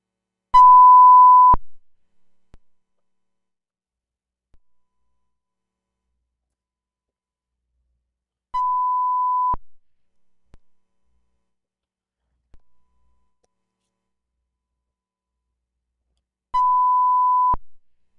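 Three steady one-second beeps of a pure 1 kHz sine wave test tone, evenly spaced about eight seconds apart, with faint clicks and silence between them.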